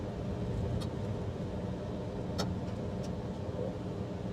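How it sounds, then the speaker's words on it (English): A Toyota Hilux travels a dirt road in the Australian outback, heard as a steady, dense cabin rumble of engine and tyres with a couple of brief light clicks. "how good's dirt road driving in a Hilux?"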